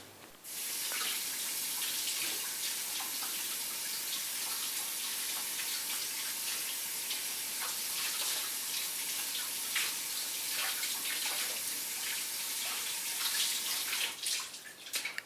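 Water runs steadily from a tap during a cleaning session, a close, soft, continuous splashing rush as a cloth is rinsed, with no talking.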